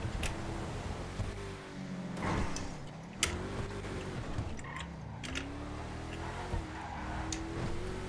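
A car engine in GTA Online drones and revs continuously, rising and falling in pitch, with occasional tire squeals and sharp knocks over a steady rumble.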